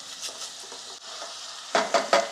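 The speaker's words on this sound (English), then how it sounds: "As the water is gone, the sizzling, the sound of the sizzling changes." Meat sizzles steadily in a hot frying pan with a broad crackling hiss as its water cooks off, followed by a few sharp scraping stirs near the end.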